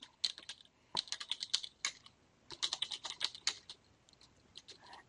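Rapid bursts of keystrokes on a computer keyboard as a name is typed, crisp clicking clusters separated by brief pauses, close and fairly quiet.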